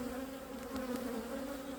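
Honey bees swarm around an open hive frame, a steady close droning buzz with a tonal hum, continuous and moderately faint, with no talking.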